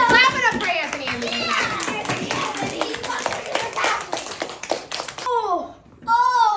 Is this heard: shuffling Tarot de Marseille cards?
no